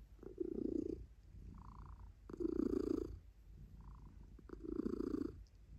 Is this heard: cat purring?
yes